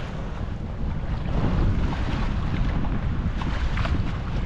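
At sea, with the engine off under sail, a powerboat passes close by the sailboat, its hull noise blending with a steady wash of waves and heavy wind buffeting near the microphone.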